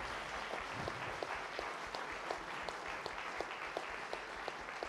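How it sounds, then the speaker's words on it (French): Soft, distant audience applause at a French public debate, a steady wash of clapping with a few sharper claps ticking through it at an even pace. "Merci de les applaudir à nouveau"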